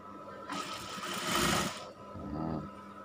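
A sewing machine runs in a short burst as it stitches a patch pocket onto a women's scout uniform, a loud buzzing whir lasting about a second and a half, then a softer second run.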